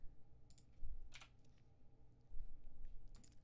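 Several quick bursts of computer keyboard keystrokes while entering a DNS server address, clustered in short clicky runs over a low background hum, with no talking.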